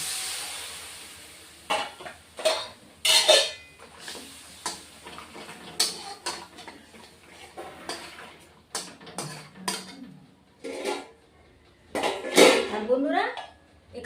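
A spoon stirs fish in a frying pan as it cooks, giving intermittent metallic scrapes and clinks against the pan, with a person talking between the strokes.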